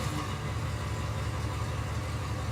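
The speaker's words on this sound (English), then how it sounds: "search for the sound of a car idling" A car engine idles in a steady, low, even rumble, close and continuous with no other sounds.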